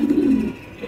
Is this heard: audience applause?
no